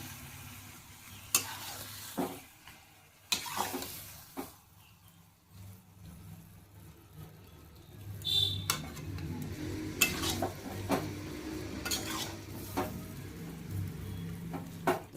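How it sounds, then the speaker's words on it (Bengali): Spice masala being stirred through mutton curry in a pan, with scraping utensil strokes and soft clatter against the metal over a low, steady sizzle, louder in the second half. "নেড়ে মশলাটা ভালো করে এর মধ্যে মিশিয়ে নেবো।"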